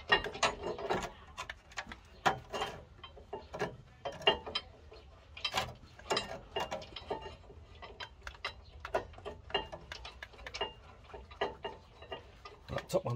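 A ratchet clicks in quick irregular runs while tightening brake caliper bolts on a car, close and fairly quiet, with short pauses between strokes.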